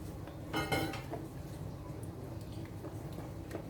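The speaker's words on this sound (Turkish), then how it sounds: "Şöyle karıştıracağım. Hepsini ekliyorum." Dough ingredients, a water and milk mixture, being stirred in a bowl for Ramadan pide, with clinking utensil-on-dish sounds and a brief louder scrape near the start over steady low background noise.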